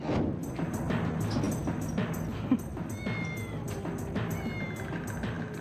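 A cat meows and yowls repeatedly over a steady noisy background of an indoor setting during dog behaviour training, with a few high electronic tones mixed in.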